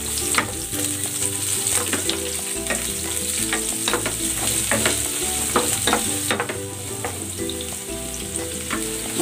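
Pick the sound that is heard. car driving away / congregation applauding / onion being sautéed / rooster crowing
onion being sautéed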